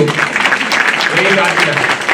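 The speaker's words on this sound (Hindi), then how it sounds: "तेरे लिए ताली बजवाओ" A gathered audience claps steadily for a couple of seconds while a voice talks over the applause.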